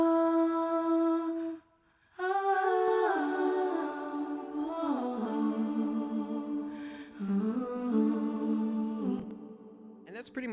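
Sustained background choral vocals in layered chords, washed in a long, spacious cathedral convolution reverb; a brief drop to near silence before the voices return.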